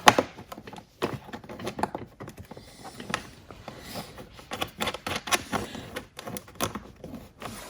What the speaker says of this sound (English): now we put all our bolts in